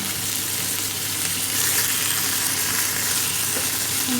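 Homemade chicken sizzling on a grill, a loud, close, continuous hissing crackle of fat and juices that holds steady throughout, with no voices.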